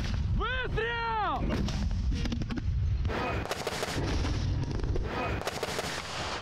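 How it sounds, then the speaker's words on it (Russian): Artillery, mortar, grenade launcher and rifle fire from infantry fighting vehicles during a military tactical exercise, heavy booming blasts and sharp gunshots overlapping in a loud, dense barrage, with a voice briefly calling out early on. "Огонь по вражеским позициям ведется из современных боевых машин десанта, минометов, гранатометов и автоматов."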